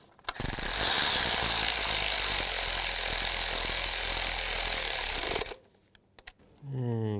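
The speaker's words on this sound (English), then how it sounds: "Take the bolt, get the bolt started, and we'll snug it up." A hand ratchet snugs a bolt on an ignition coil of a 2010-18 Nissan Sentra, giving a steady rapid clicking for about five seconds, close and fairly loud, then stopping before a brief spoken word.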